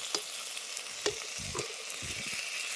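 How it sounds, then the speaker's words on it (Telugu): Whole spices tempering in hot oil for chicken biryani, giving a constant bright sizzle with a few soft stirring knocks, close and without voices. "ఇప్పుడు తాలింపు వేసేస్తాను."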